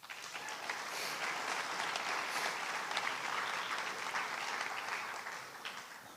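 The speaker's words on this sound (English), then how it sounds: "So if we could give a round of applause." An audience at a winter sports awards ceremony claps in a sustained round of applause, a dense, even wash of many hands heard from within the room for several seconds.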